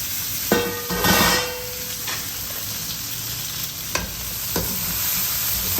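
Spicy brinjal thokku sautés in a pan, a steady sizzle broken by several distinct stirring scrapes spaced a second or so apart.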